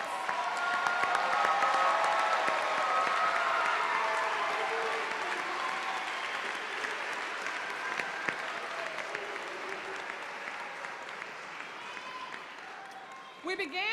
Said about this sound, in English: Let's get another round of applause for all our graduates.